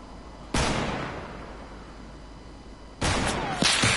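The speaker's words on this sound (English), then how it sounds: "Is that Vinny shooting me now?" Video game gunfire: a single sharp shot rings out and decays, then after a pause a cluster of shots cracks in quick succession, loud over a steady low background hum.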